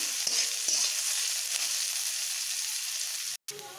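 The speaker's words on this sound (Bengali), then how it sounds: "পেঁয়াজটাকে একটু ভালোভাবে ভেজে নেব" Salted onions fry in a pan in a home kitchen with a steady close sizzle and a few soft stirring scrapes, ending with a brief silent gap.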